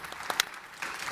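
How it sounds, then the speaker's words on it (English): A brief, fairly faint patter of audience applause at a trade fair stage, a few sharper claps standing out from the soft crowd clapping. "A big applause for the four guys here."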